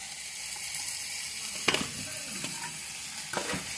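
Onion, chilli and potato frying in a pan give a steady broadband sizzle throughout, with a few brief clicks and stirring scrapes near the middle and end.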